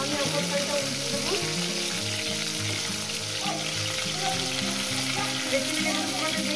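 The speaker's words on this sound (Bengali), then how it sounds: "এক সাইড মাছগুলো ভাজা হয়ে গেছে, আমি অপর সাইডটা উল্টে দেবো।" Bata fish fry in oil in a pan while the pieces are turned over, a continuous close sizzle with faint stirring and scraping, and no one talking.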